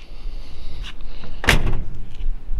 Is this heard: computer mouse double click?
no